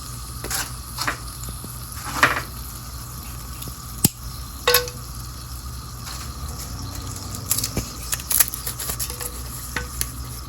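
Cinnamon dropped into hot mustard oil for a mango and tamarind achar, with a low sizzle broken by scattered clicks, pops and stirring taps.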